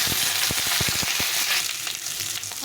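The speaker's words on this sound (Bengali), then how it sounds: "এখন আমি এখানে আলু আর পটলটা একটু লবণ আর একটু হলুদ দিয়ে ভেজে নেব।" Pointed gourd and potato pieces fry loudly in hot oil, with a burst of crackling pops and spatters over a dense, close sizzle that settles into a steadier hiss.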